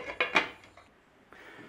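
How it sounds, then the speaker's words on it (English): A metal lid clatters onto a pot of simmering beef and mushroom pie mix, with a few sharp clinks and scrapes close up, then a softer rattle a moment later. "Stir it round and bob your lid on"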